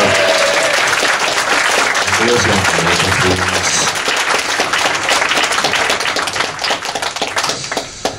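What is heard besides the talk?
audience applause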